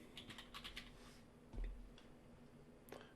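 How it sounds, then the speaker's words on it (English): Light, quiet typing on a computer keyboard entering a word into an Excel 2019 spreadsheet, a few soft key taps over a faint background hum. "And we're going to type in inventory."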